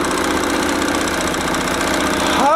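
A 1974 Sears Kenmore sewing machine running fast, a loud, close, continuous high-speed motor whir with steady rapid mechanical clatter, rising slightly in pitch at the end.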